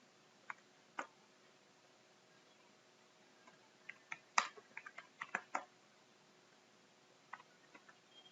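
Scattered keyboard typing while an SQL query is written, quiet and irregular, with isolated key clicks early on and a denser burst of keystrokes in the middle.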